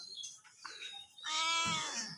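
A stray cat meows near a woman. Faint, soft sounds come first, then a clear, drawn-out meow rising in the second half, with no speech over it.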